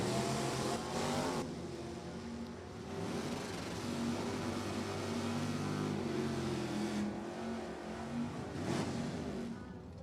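Classic Chevrolet drag cars, a black 1968 and an orange 1969, launch at a dragway. Their engines roar and rev continuously at moderate distance, with no talk over them.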